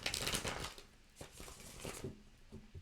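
Tarot cards riffle and slap together in quick, close bursts, with softer papery handling between shuffles.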